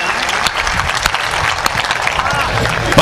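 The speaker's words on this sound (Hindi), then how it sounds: "एक बार सारी तालियां उसके नाम पर बज जाएं, उसके दिल्ली जाने के नाम पर बज जाएं" Audience applause at a Hindi comedy poetry gathering (hasya kavi sammelan), a dense patter of many hands clapping close by, with a voice talking over it.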